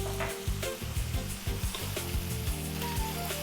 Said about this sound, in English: Drop that chili in, and then let's put our spices in.